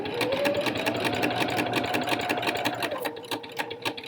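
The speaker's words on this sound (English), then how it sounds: "So we're going to stitch until we are actually on top of that seam." A sewing machine stitches a T-shirt hem in a steady continuous run, motor humming loud and close for about three seconds before easing off, with no talking.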